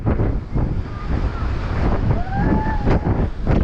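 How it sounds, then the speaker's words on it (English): Strong wind buffeting a microphone on the St Ives coast in Cornwall: a loud, steady, low roar of gusts throughout, with faint seabird cries faintly audible over the rumble. "You probably can't hear me very well just because of the wind"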